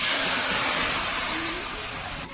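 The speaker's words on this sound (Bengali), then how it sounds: "কচুটা ভালো করে ভেজে নিয়েছি এখন জল দেবো" Water poured over fried taro in a hot pan sets off a loud, steady sizzling hiss that stays close and continuous throughout, easing slightly near the end, with no voices over it.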